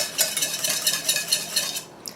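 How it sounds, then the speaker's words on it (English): A whisk stirs dressing into egg salad in a bowl, with quick, steady scraping and clinking strokes repeating close up for about two seconds before they stop. "I'm going to whisk that in."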